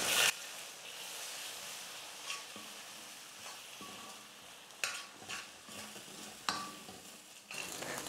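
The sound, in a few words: eggs cooking and being stirred in a kadai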